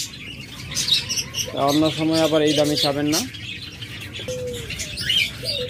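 Cage birds such as java sparrows, budgerigars and lovebirds chirp at a bird seller's, with a burst of harmonic calls in the middle and scattered high tweets throughout, under a voice.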